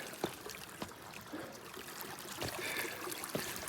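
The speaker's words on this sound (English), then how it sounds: "Nice little creek." A small mountain creek near Seldon Pass on the John Muir Trail trickles and babbles steadily in the early morning, a soft continuous wash of water with occasional small splashes close by.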